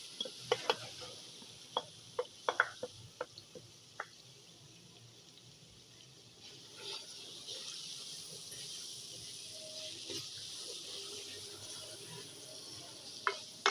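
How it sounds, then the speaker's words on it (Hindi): Boiled dal being stirred and fried in gravy in a pan: scattered scraping clicks of a spoon against the pot early on, then a low, continuous sizzle with occasional knocks. "दाल को हम 5-7 मिनट के लिए भूनेंगे।"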